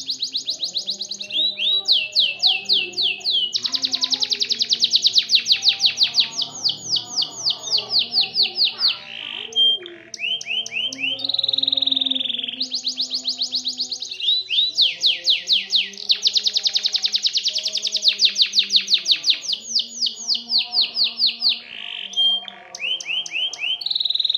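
A canary sings loudly and continuously, with rapid trilling rolls and bright whistled phrases repeating in long bursts with brief pauses, up close.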